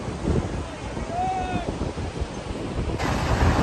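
Sea waves and strong wind rush past during a speedboat ride off Digha, with continuous buffeting wind noise on the microphone and the churning surf.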